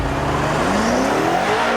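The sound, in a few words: rear-wheel drive car launching, engine revving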